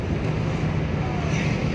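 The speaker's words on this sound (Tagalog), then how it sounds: "Ay, ang hangin." Wind buffets the microphone outdoors near a road, a steady rushing roar with faint voices underneath.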